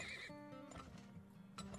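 A horse in the video game Turmoil whinnies briefly amid layered game sounds and a looping music tone, quiet overall.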